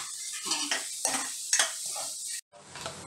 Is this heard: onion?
yes